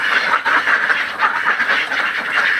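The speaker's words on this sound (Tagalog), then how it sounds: "Ito yung kanilang mga duck layer." A dense chorus of laying ducks quacking inside a low-cost duck house on a farm, loud and continuous, with many overlapping calls close by and no talking.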